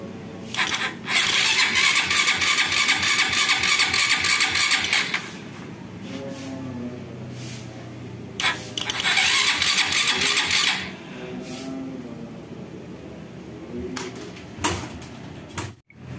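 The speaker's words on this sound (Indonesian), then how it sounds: "Kita coba hidupkan apakah hidup." A motorcycle converted from carburetor to fuel injection is cranked in a workshop in two long starter bursts, harsh and loud, separated by quieter mechanical clatter, with brief clicks and knocks near the end.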